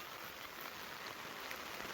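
Steady rain falls on a tobacco field during the monsoon, a soft even hiss with no breaks and no voices.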